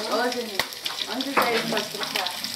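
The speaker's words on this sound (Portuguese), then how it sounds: "fritando, fogão a lenha funcionando normal hoje." Meat frying in a pan on a wood-burning stove at a rural farmhouse, a close sizzle and crackle broken by stirring scrapes and a few sharp knocks.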